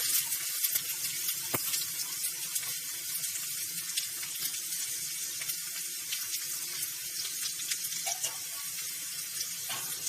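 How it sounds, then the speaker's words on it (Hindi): Garlic added to hot oil with cumin seeds in a home kitchen, giving a steady bright hiss and crackle that runs unbroken, close and moderately loud, with no talk. "तो अब मैं इसमें लहसुन डाल रही हूँ।"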